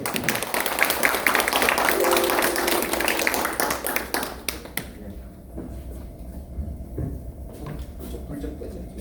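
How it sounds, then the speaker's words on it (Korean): Applause with scattered claps and cheering from a crowd at an indoor gathering welcoming a speaker fills the first few seconds, then fades into quieter room noise with a few taps. "큰 박수로 맞이해 주십시오"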